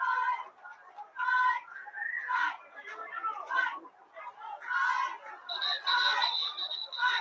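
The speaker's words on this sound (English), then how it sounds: "And we got a whistle." A referee's whistle sounds near the end at a Marion versus Sterling football game, a steady high tone over loud crowd chatter and talk throughout.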